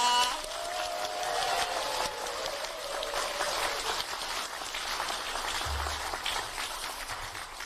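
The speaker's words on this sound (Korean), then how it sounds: "다시 한번 큰 박수 부탁드립니다" Audience applause at a Korean political party training and achievement-sharing event, a dense, steady wash of clapping held at an even level throughout, with faint voices underneath.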